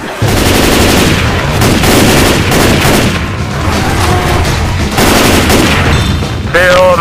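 Rapid bursts of automatic gunfire and booms in Left 4 Dead 2 as players fight zombies, loud, dense and continuous, with a brief lull midway and a few faint tonal game cues near the end.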